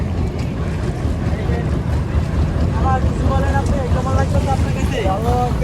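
A boat travelling on the Buriganga river, with a constant low engine rumble and wind rushing past the microphone, while people talk over it.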